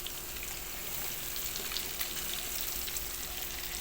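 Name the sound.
breaded kofta frying in hot oil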